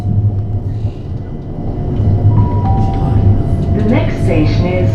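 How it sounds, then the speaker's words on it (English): Interior of a London Overground train running toward Crystal Palace, a constant loud low rumble with a faint whine rising and sweeping near the end. "let's take a train trip on the London Overground"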